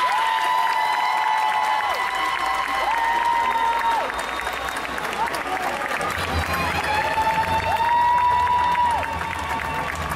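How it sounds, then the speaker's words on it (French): A crowd at the Yggdrasil Indoor 2023 cosplay contest applauds steadily for a handmade Maleficent costume, with some cheering mixed in, while sustained music plays loudly underneath the whole time. "je vous demande un tonnerre d'applaudissements pour la Maléfique de Adi Cosplay"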